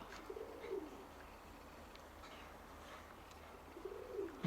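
Soft pigeon coos at the start and end, separated by a quiet stretch of faint outdoor background.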